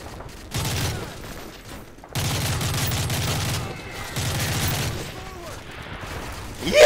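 Loud automatic weapon fire in Call of Duty: Modern Warfare 3, three long sustained bursts separated by brief pauses, close and dominant, with faint background battle noise between volleys.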